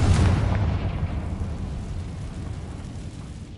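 Confringo fire spell explosion in the Hogwarts Legacy video game, a single loud booming blast with a deep rumbling tail that fades slowly over a few seconds, with no voices.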